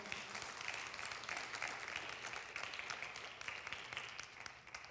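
A church congregation claps together during a sermon, a faint, steady wash of applause heard from a distance that carries on evenly for several seconds.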